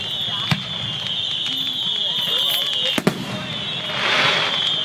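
Fourth of July fireworks go off as a few sharp pops and bangs, one near the start and a close pair near the middle, over a steady background hum with people talking nearby.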